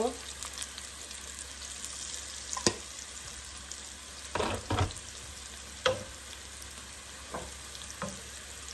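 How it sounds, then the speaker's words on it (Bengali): Onions frying in a pan for a bottle gourd stir-fry: steady sizzling with intermittent spatula scrapes and knocks, a cluster of louder stirs in the middle, no voices. "পেঁয়াজগুলি যখন ভাজা ভাজা হয়ে যাবে"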